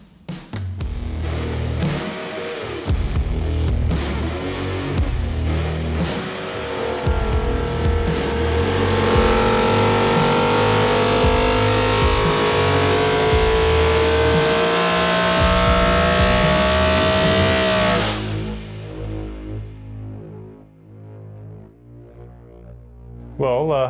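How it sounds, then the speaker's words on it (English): A race engine in a workshop runs on a dyno, idling roughly before climbing into a long, loud sustained rev that holds and then cuts back to a lumpy idle, with brief talk nearby. "any chance we can chuck this on the dyno and see what it does?"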